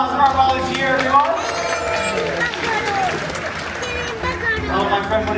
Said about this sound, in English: How about a round of applause for our volunteer, everyone?